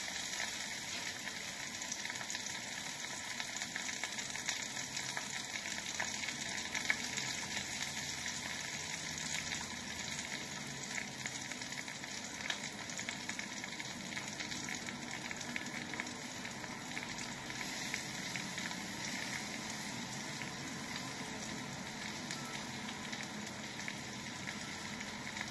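Onion sizzles alongside garlic in a hot pan while being sautéed for mitchado, a steady, faint, crackling hiss that continues evenly throughout without any break.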